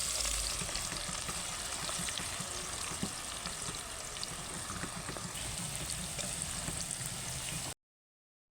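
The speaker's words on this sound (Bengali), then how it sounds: "বেস্তাটা ভেজে নিচ্ছি এটা রিফাইন তেল ভেজে দিচ্ছি তেলে" Sliced onions fry in refined oil for beresta, making a dense, steady close-up sizzle with faint stirring clicks, unbroken for about eight seconds before cutting to silence.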